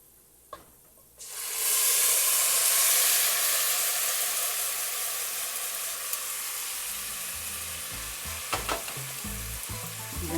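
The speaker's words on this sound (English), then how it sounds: "Now it's time to add the tomato mixture." A tomato mixture hits a hot pot of browned fideo noodles: after a soft clatter, a sudden loud hissing sizzle erupts, then slowly settles, with stirring knocks and scrapes near the end.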